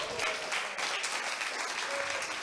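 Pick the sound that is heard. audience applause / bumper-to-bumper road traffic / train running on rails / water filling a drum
audience applause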